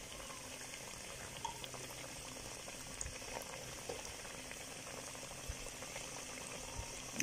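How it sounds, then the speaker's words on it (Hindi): Chapli kebabs fry in hot ghee with a soft, continuous bubbling sizzle. The sound is faint and even, with occasional small pops. "घी बिल्कुल गर्म हो गया, तो इसमें अब डालते हैं हम अपने कबाब"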